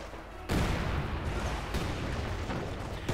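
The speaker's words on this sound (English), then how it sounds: "More rocket strikes." Rocket strikes in Company of Heroes 2 pound a battlefield in a dense, sustained barrage, with a sharp onset of loud blasts and rumbling that rolls on steadily, with fresh impacts cutting in at intervals.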